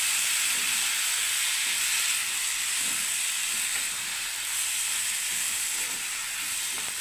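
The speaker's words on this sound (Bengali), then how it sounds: "এবার আমি কাটা বাঁধাকপিটাকে আমি দিয়ে দিচ্ছি বন্ধুরা। দেখুন ব্যাস এবার আমি নাড়তে থাকবো বন্ধুরা।" Chopped cabbage sizzles and hisses steadily in hot oil in a pan, with soft scraping of a stirring spoon now and then, close and continuous without speech.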